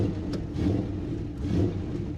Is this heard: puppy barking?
no